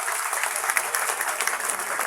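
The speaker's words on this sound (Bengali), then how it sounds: "সদস্যরা সবাই জোরে করতালি দিয়ে এমপিকে অভিনন্দন জানান" Applause from members at a Trinamool Congress political workers' meeting, a dense and steady burst of clapping from a crowd that holds at an even level for a couple of seconds.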